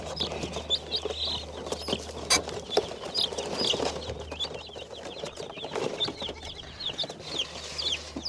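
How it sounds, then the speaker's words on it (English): Soft, continuous peeping and cheeping of three young layer chicks in a brooder, with scattered rustling and light knocks nearby under a low steady hum. "So we had 3 layer chicks that someone had given us."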